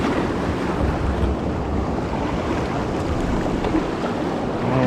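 Choppy river water churning in waves just below a dam on the Flat River, a steady broadband rush mixed with wind buffeting the microphone, continuous and close with no voices.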